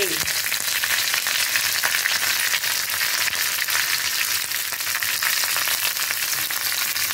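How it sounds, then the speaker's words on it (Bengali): Torn fresh curry leaves fry in a hot spice tempering, giving a loud, steady hissing sizzle with fine crackle that holds evenly from start to finish. "আমি আস্তে আস্তে ছিঁড়ে এগুলো এই ফোড়নের মধ্যে দিয়ে দেবো।"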